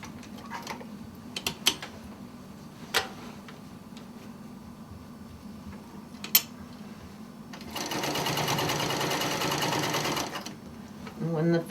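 A sewing machine stitches the side seam of a quilt, with sparse clicks and mechanical ticks at first, then a steady loud whirring run for a few seconds before it slows to a stop.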